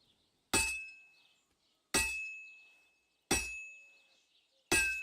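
Hammer blows on hot metal at an anvil in a medieval blacksmith scene from the video game Kingdom Come Deliverance II: four loud, bright metallic strikes spaced evenly about a second and a half apart, each leaving a long ringing decay.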